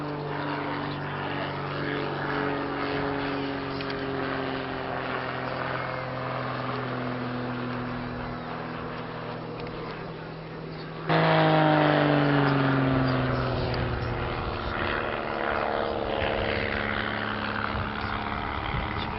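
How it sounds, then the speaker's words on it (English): A Focke-Wulf FW190 flying a display at Old Warden, England, in 1986: a steady, fairly distant piston-engine drone whose pitch gradually shifts and then swells louder partway through as the aircraft passes. "The Focke-Wulf FW190."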